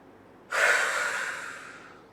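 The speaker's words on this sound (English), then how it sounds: "Exhale quickly through the mouth. Inhale for 5 counts up. Exhale for 2." A single strong, quick breath during a seated chair-yoga breathing exercise, loud and close, starting abruptly and tapering off over about a second and a half, with no talking.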